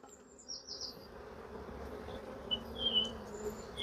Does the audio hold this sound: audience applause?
no